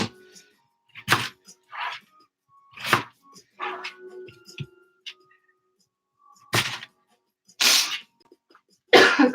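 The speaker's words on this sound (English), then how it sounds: "I'm still sniffling from that pepper." Repeated sneezes and sniffling bursts from a person irritated by too much black pepper while cooking vegan sauerkraut, several sharp loud bursts spaced irregularly with quiet gaps and faint kitchen thumps between.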